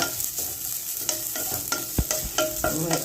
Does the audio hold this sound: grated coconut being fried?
yes